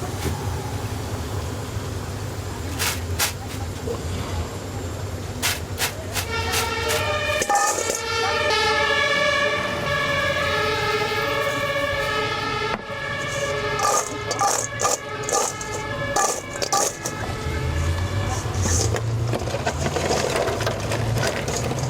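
A siren near a street food stall in Berlin rises and falls in repeated wailing tones over steady street noise and clatter, loud and close, with some sharp clicks between the wails.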